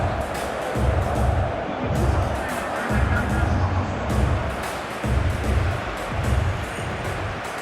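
A video-game stadium crowd in PES 21, at a Portugal versus Argentina World Cup final simulation on a clear night, gives a broad, continuous roar with rhythmic low surges of chanting, loud and enveloping.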